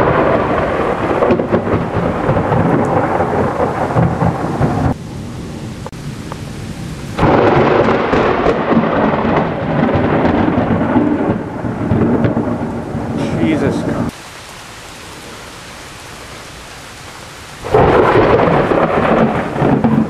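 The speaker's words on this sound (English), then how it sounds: "here comes the rain and the thunder" Heavy thunder rumbles loudly and continuously through a downpour, rain drumming steadily beneath rolling booms that swell and drop off in long waves, with a quieter stretch of rain near the end before the roar returns.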